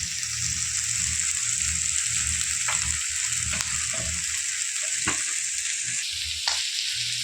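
Steamed chicken torn into small shreds sizzles and fries with onions in a pan, a constant hiss of oil under intermittent scraping stir strokes, close up with no talking.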